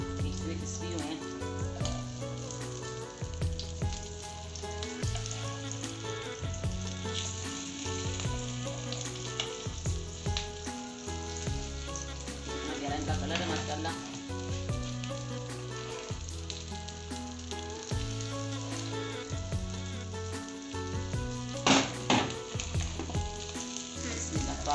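Aloo tikki, or potato patties, shallow-fry on low heat until crispy, with an unbroken close sizzle and popping oil running under background music, with no voices.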